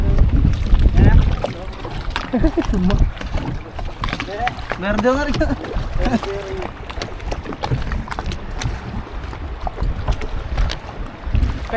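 A boat engine rumbles steadily out at sea with wind buffeting around it, while people talk over the noise.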